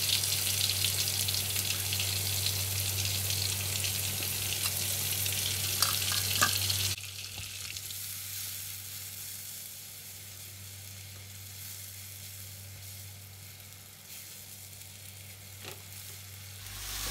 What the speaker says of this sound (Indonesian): Ditumis sampai benar-benar matang.